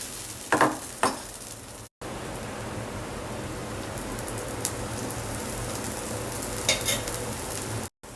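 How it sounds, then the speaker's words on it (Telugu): Rice and coconut adai batter sizzles steadily on a hot pan, a loud, continuous hiss up close with a few brief stirring sounds at the start and no talk. "పెనం వేడెక్కింది ఇప్పుడు రెండు గెరెట్లు తిక్కుగా వేసేసుకుందాము"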